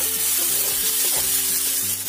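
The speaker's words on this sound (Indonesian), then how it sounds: "Kita tumis sampai sosis ayamnya ini agak matang." Chicken sausage and sliced green onion sauté in a hot pan, a dense, loud sizzle running throughout with scraping stirs breaking in at intervals.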